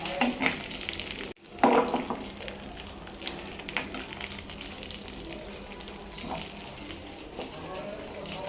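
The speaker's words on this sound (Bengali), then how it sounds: "আবার একটু মাছটাকে ভেজে নিতেছি" Fish sizzles as it fries in a pan in a home kitchen, a steady crackle throughout with a brief pause, mixed with running tap water and stirring, and voices occasionally speaking nearby.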